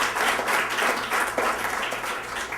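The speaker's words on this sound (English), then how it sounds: "Yes, you can applaud." An audience at a Solar Decathlon event applauds, with dense and steady clapping from a large crowd that continues for the whole short stretch.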